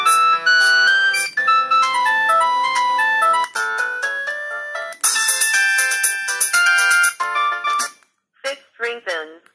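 An Itel it5070 phone plays its caller ringtone, a bright electronic melody of chiming tones through the phone's speaker, loud and close, breaking off and then restarting with short bursts near the end.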